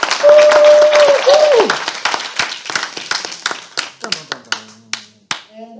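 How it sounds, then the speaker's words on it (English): A small gathering of guests claps for a round of applause at an introduction session, starting as a dense burst and then thinning into scattered, individual claps; a brief sung or hummed tone sits over the start. "Let's give one more round of applause."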